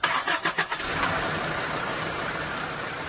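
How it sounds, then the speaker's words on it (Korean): Car with an MVA 2000 engine starting up: a few rapid cranking pulses, then the engine catches and settles into a steady, fairly loud idle close by. "시동도 한번 걸어보겠습니다."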